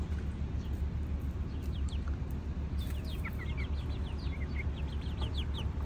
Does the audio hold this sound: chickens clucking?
yes